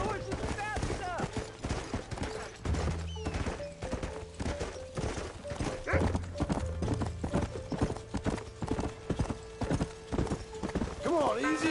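Horses gallop in Red Dead Redemption 2, with steady rapid hoofbeats and an occasional whinny running throughout. Game music and voices sound over the hooves, and distant gunfire cracks now and then.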